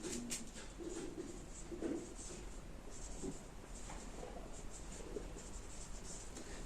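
Faint marker or chalk strokes on a board during a chemistry lecture, soft intermittent scratches across a quiet room with light background murmur.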